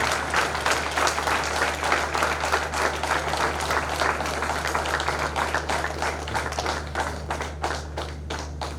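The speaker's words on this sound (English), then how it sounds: "Please give clap for him" Audience at a leadership inauguration ceremony in Juba claps steadily for a chairman emeritus, dense continuous applause with distinct individual claps over a low steady hum, thinning slightly toward the end.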